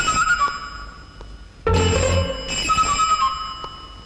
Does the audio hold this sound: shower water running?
no